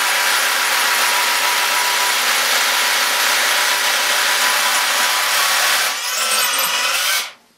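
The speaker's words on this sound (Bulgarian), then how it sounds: "Прецака ли се бормашина?" A power drill whines continuously at high speed, close and loud, during work in a newly explored cave on Ponor mountain, with the motor changing pitch near the end before cutting off abruptly.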